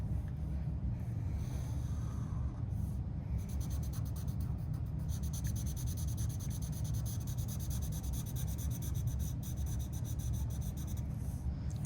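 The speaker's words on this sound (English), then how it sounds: "since I'm using Sharpie and I can't erase" A Sharpie marker drawn across paper gives a soft, continuous scratchy rub, with faint rhythmic stroking and brief pauses, close and quiet throughout.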